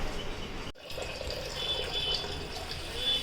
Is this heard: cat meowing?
no